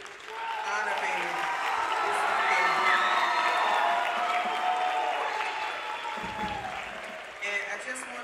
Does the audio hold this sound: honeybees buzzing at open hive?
no